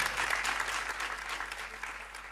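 Applause from a French comedy-club audience, a dense burst of clapping that fills the room, loud and steady before thinning slightly at the end, with no talking over it.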